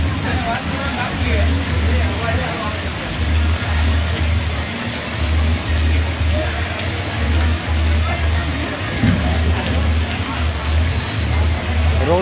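Steady, dense rainfall pattering on surfaces, continuous and fairly loud, with a low rumble underneath.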